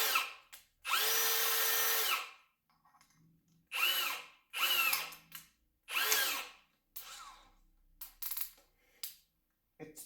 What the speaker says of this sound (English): I'm going to test it on a wood, drilling a wood